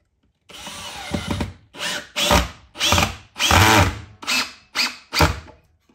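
A power drill drives 2-inch screws into a hose reel in about seven separate loud whirring bursts, each roughly half a second to a second long with short pauses between, close and alone without talk.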